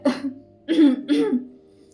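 Three loud, harsh coughs close by, one short burst then two heavier ones in quick succession.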